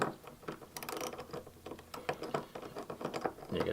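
A 13mm wrench tightens a nut on a Honda Grom wheel: quick repeated metallic ratcheting clicks in short uneven bursts, close up, with no talking.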